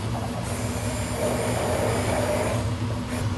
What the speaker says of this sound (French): je prends mon infusion de café et mon pain de mie. Je vais le mixer.